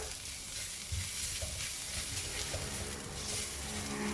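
Fennel powder, cumin powder and garam masala frying in a pan for a canned sardine curry, a constant close sizzle with soft scraping stir strokes over it and no talking.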